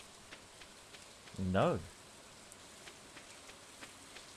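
Rain in the farming video game Stardew Valley, a faint, steady patter of drops across the whole span, briefly covered by a short spoken word.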